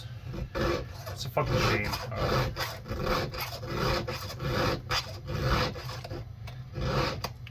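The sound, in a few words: filing a chainsaw chain to sharpen it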